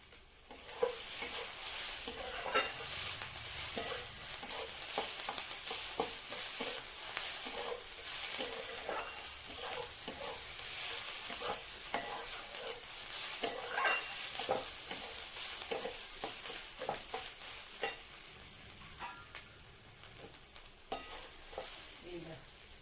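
Whole spices (khari) frying and being stirred in a pan for a posto and bottle gourd dish, a steady close sizzle with frequent scraping and clinking stirs throughout, no voices.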